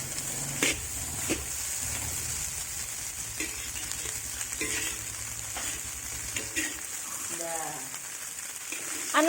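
White fried rice (nasi goreng putih) sizzles in a pan, a steady frying hiss broken by sharp clicks and scrapes of stirring, heard close up without anyone speaking.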